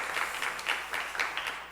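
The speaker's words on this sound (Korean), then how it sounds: "이 시간 하나님께 박수로 감사와 영광을 돌리며" A church congregation claps in worship, a moderate wash of many hands with a loose, pulsing rhythm, heard nearby and steady with no talking over it.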